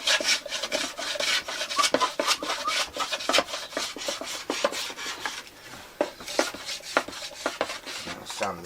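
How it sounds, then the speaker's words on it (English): Sanding shapes the carved wooden top of an arch top jazz guitar, with steady, rhythmic rasping strokes that run continuously up close. "I'll sand the shape of that."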